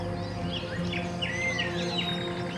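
Chirps and short whistled bird calls ring out in a forest near a roosting site. Several birds call at a moderate distance, with steady insect-like buzzing beneath them and no voices.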